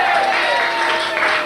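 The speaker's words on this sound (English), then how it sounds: "Big round of applause for him." Dense applause from a studio audience at a 1992 Vic Reeves Big Night Out comedy show, a steady wash of many hands clapping close and full throughout, with a sustained tone running underneath.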